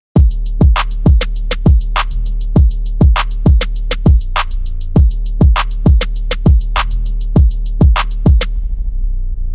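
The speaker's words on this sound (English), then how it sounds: "Now for the rhythm section we'll be using a kick, a clap, a snare, a hi-hat, an open hat, an 808" An FL Studio rhythm section of kick, clap, snare, hi-hat, open hat and deep 808 bass at 100 BPM: punchy, loud, steady drum hits with bright hats over a booming low end, no talking.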